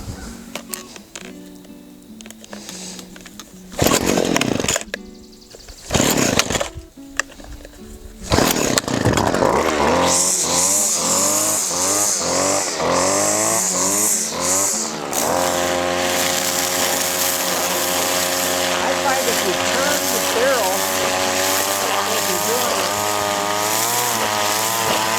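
A gas engine on a leaf shredder is pulled to start with a few short bursts, catches after several tries, revs up and then settles into a steady, loud, close droning run.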